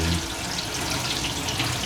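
Cold tap water runs steadily into a kitchen sink while food is rinsed during cooking, a continuous close splashing rush with no voices.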